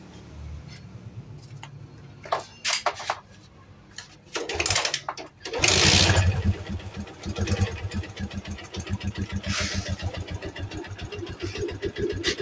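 A Yamaha Jupiter MX motorcycle engine, suspected of a rough running fault, sputters and catches after a few starting clanks, then settles into a fast, rattly ticking idle with a burst of revving, heard close up and alone.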